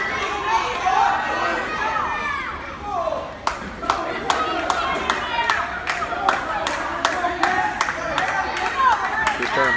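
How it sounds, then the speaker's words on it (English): A wrestling crowd at a pro wrestling show yells and chatters continuously while sharp, scattered claps and slaps ring out repeatedly in the second half, loud and close over the roar. "You can hear the crowd yelling"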